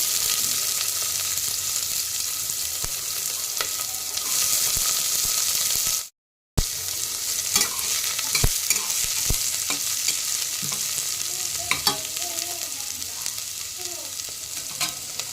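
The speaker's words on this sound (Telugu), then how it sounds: "బ్రౌన్ కలర్ వచ్చేంత వరకు ఒక 5 మినిట్స్ తిప్పాలి." Onions, green chillies, cloves, cardamom, cumin and cinnamon sizzle steadily in hot oil for khichdi, with repeated sharp scrapes and taps of a spoon stirring the pan, broken by a brief silent gap midway.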